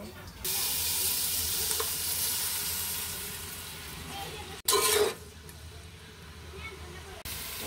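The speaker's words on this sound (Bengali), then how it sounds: "এই যে পেঁয়াজ দিয়েছি এখানে। এবার এটা তেল দিয়ে ভেজে নিব।" Sliced onions fry in oil in a large pot for chicken biryani, a steady close sizzle with a short louder burst of stirring partway through.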